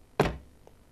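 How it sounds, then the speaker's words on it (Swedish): A car door slams with a single short, solid thump that bounces open rather than latching, followed by a faint small knock moments later. "Dörren studsar upp istället för att gå i lås."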